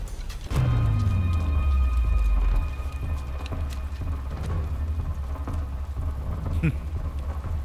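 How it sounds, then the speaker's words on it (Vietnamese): Torrential flood rain hisses steadily while a deep thunderclap booms and rolls away near the start, followed by scattered sharp cracks and drips over the continuing downpour. "Mưa lũ cực lớn."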